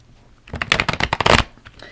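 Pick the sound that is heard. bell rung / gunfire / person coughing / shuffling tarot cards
shuffling tarot cards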